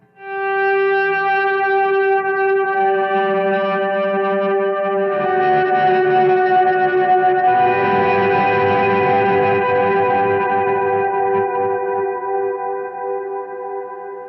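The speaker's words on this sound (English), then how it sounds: "Now the timeline does have a really cool swell effect." Electric guitar run through a Strymon Timeline delay pedal's swell effect for church music, with notes fading in slowly and blooming into a sustained, ambient, echoing wash of chords, loud and steady with no talking.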